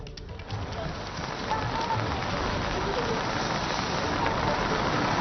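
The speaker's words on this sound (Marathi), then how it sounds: "नाशिकमध्ये सकाळपासून मुसळधार पाऊस सुरू आहे" Heavy monsoon rain pours down steadily in Nashik during flooding, a loud, dense drumming on surfaces that never lets up.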